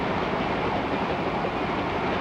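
New York Central's Mercury passenger train runs between Cleveland and Detroit, a dense continuous rumble and roar of rolling cars, loud and steady without any voices.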